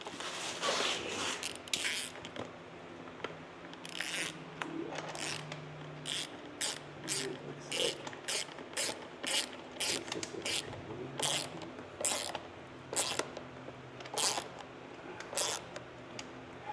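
A hand ratchet clicks in quick bursts, tightening a bolt on new plastics of a KTM 85SX dirt bike. The rapid pawl clicking is close and fairly quiet, broken by short pauses.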